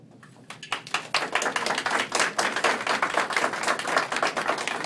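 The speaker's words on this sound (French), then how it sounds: "Il faut applaudir ça" An audience applauds an Haitian finalist: dense, steady clapping from many hands, starting sparse then swelling into a loud, sustained ovation with no talk over it.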